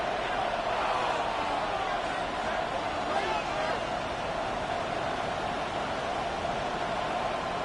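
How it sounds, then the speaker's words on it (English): A football stadium crowd during an NFL game roars as a steady, dense wash of noise that holds loud and even throughout, with no clear pauses. "This crowd turning up the decibel level."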